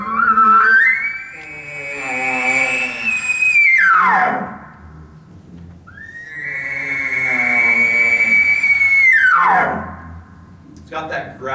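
Bull elk display bugle imitated by a person with an elk call: two long rising whistled notes that hold high then drop into a guttural grunting, loud and close.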